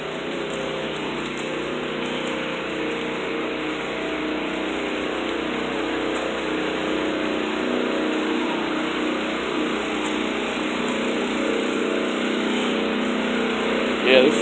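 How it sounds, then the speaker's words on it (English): Pump truck engine droning steadily at a flooded site near a rail line, a constant broadband roar with no clear breaks, fairly close and loud throughout. "Yeah, this is a pump truck."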